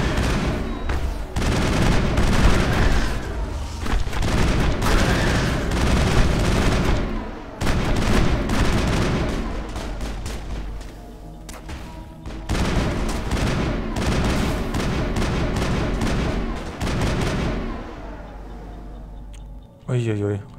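Rapid gunfire in Mass Effect fills nearly the whole stretch: dense, loud bursts of weapon fire in long runs, broken by a few short lulls, with battle noise layered throughout.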